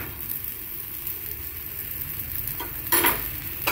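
A jowar dosa sizzling on a pan after a few drops of oil, a steady close frying hiss with a brief louder crackle near the end.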